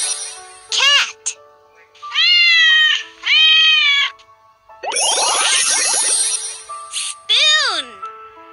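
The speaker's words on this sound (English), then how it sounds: "Cat." A cat gives several loud, close meows in separate bursts, a few short and rising, others drawn out and wavering, with a brief jingle in between.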